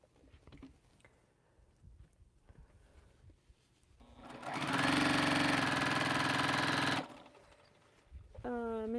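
Sewing machine running steadily for about three seconds while stitching quilt rows together, a loud, even mechanical whir that starts and stops abruptly, with quiet room noise before and after.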